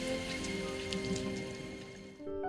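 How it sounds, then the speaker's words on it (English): Steady rain patters on a surface in a continuous wash, with faint tonal music lingering beneath it and no voices. "The rain would stop just once. Can't rain all the time."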